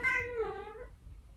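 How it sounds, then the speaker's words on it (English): A cat gives one loud, drawn-out meow, close up and on its own, which trails off into quiet after about a second. "Cats."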